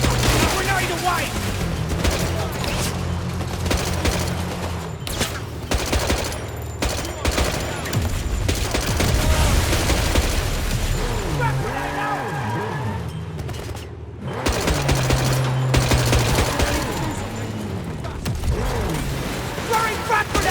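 Gunfire and grenade explosions from 007 First Light play as rapid, overlapping bursts and booms. A dense, loud battle bed runs throughout, and voices call out over it in places.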